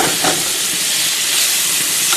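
Garlic hits a hot pan in a cooking setting, giving a loud, continuous broadband hiss and sizzle that stays steady throughout with no voices.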